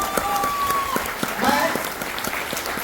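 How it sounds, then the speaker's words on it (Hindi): Audience applause at a motivational success-story talk: brief, scattered clapping of moderate loudness that rises and falls over a few seconds. "एक बार जोरदार ताली बजाए तो कितना जोरदार ताली बजाइए।"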